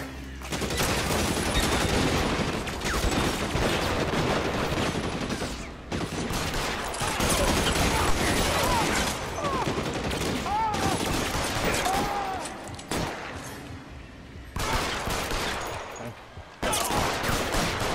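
Sustained, dense gunfire during a shootout in the crime game LA Noire, rapid bursts and fusillades filling most of the stretch with brief lulls, loud and close, with a few faint voices mixed underneath.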